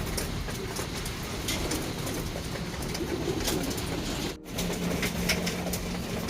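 Racing pigeons coo softly inside a loft, low murmuring calls set against a steady background hum and rustle that keeps going, with a brief drop in sound partway through.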